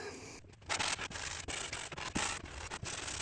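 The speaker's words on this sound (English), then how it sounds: "Then hand sand some more." Pallet wood being hand sanded with steady back-and-forth rasping strokes, close and fairly quiet, in an even rhythm with short pauses between passes.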